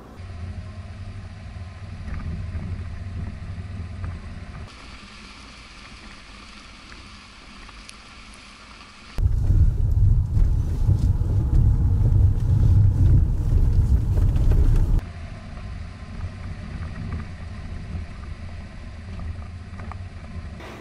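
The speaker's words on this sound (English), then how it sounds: "a Rolls-Royce driving experience to cruise around and check out their incredible Rolls-Royce Cullinan SUV" A Rolls-Royce Cullinan SUV cruises near Santa Fe with a steady low engine and road hum inside the cabin, shifting tone midway and growing louder for several seconds before settling back down.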